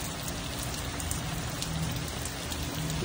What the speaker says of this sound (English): Oh, it's raining out here.